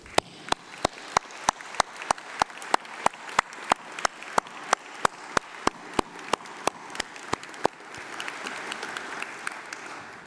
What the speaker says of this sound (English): Please join me in a massive round of applause for them.